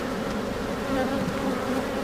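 Honey bees drone in a dense, even buzz close by at an open hive that has been queenless, steady and unbroken with no voices.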